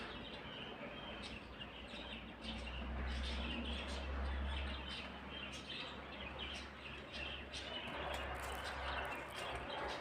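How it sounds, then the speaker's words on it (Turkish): Birds chirp and twitter in scattered bursts over a steady low outdoor rumble in a Turkish village, with no talking, a calm rural ambience. "Kuşlar her zaman ötüyor"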